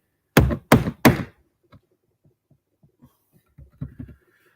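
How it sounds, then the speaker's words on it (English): A hand bangs hard on a computer, giving three loud, close thuds in quick succession, then a scatter of faint small taps and a few softer knocks. "If you hear tapping in the background, because it's me banging my computer very hard."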